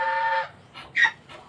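A chicken tugged along on a rope gives a short series of clucks and squawks, close and clear: one longer call followed by three quick, brief clucks.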